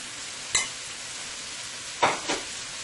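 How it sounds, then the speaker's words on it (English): Shrimp and tomatoes fry in a pan under a steady soft sizzle, broken by a few distinct scraping or stirring clinks of a utensil against the pan, close by with no talking. "we're going to let this fry for about 3 minutes more"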